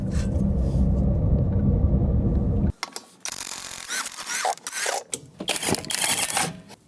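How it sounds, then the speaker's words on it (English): Worn wheel bearing on a Ram ProMaster van while driving: a steady loud rumbling drone for a few seconds, then clattering, ratcheting mechanical noise with uneven bursts. "This wheel is making noise while I drive."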